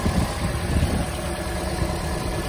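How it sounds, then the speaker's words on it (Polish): A Toyota Auris engine idles steadily and smoothly, a constant close rumble with no speech over it. "I tyle, silnik ładnie chodzi na pewno."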